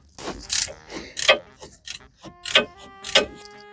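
Ratchet clicking in repeated bursts while removing bolts from the gearbox of a Volvo V70 during a manual gearbox swap, close and fairly loud with short pauses between strokes.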